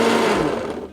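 A blender whirs loudly as it purees navy beans with salt, a dense steady motor drone up close that begins to fade toward the end of a brief burst.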